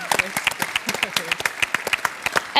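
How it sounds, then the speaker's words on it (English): Applause from an audience at an honours gathering, a burst of clapping with distinct hand claps standing out over a brief stretch, with talk faintly under it. "Round of applause for Theresa Gattung."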